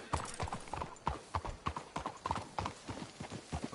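Horse hooves clip-clop in a steady walking rhythm in the game Red Dead Redemption 2, several horses moving together with crisp, close hoofbeats and no talk.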